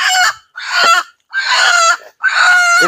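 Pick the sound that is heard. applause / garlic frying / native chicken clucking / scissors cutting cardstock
native chicken clucking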